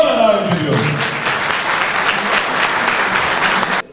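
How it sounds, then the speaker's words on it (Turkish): A crowd at an oil wrestling workshop breaks into loud, dense clapping that holds steady and then stops sharply, with a voice briefly heard at the start before the applause swells. "Alkışlarla dağılıyor."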